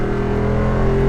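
A Jeep Wrangler 392 engine revs with a deep, loud, steady rumble, heard close up and alone in a brief burst.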